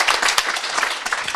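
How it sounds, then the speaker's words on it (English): A conference audience gives a brief burst of applause, dense clapping throughout. "Can we have a big round of applause for Connie, who's joined us from Austin"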